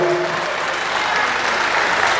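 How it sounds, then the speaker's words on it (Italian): Steady, dense clapping from a crowd at a slalom rally awards ceremony in Altomonte, sustained and even for the brief stretch with no pause. "Un grosso applauso per Emilia Covello"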